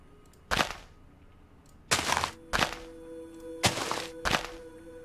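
Blocks of dirt struck in a PC video game: five dull, punchy thuds spaced irregularly over a low steady hum, each impact short and fairly loud, with no talking.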